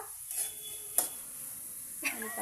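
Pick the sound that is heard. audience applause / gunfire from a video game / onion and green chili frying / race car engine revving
onion and green chili frying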